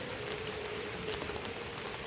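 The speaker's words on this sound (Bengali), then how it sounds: "এখন দেখো বাইরে বৃষ্টি পড়ছে" Light afternoon rain falls outside, a soft, steady patter of drops on a surface, fairly faint and even, with no talking.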